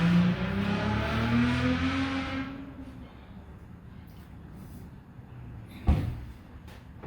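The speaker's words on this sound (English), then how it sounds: "We got this goofy guy who is constantly revving up his motorcycle engine for no reason at all." A neighbour's motorcycle engine revs outside a home workshop, a rising, droning engine tone that swells for a couple of seconds and then fades into the distance.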